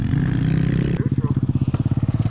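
A Kawasaki KLX110 dirt bike engine runs close by, first as a steady idle, then as a rhythmic, barky pulsing putter after a sharp change partway through.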